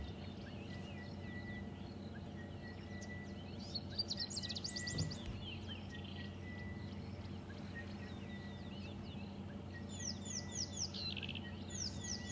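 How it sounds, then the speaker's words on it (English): An orange-breasted bushshrike calls on an African safari drive, short clear whistled phrases coming and going over a steady bed of insect drone and distant bird chatter. "That sounds like an orange-breasted bushshrike calling."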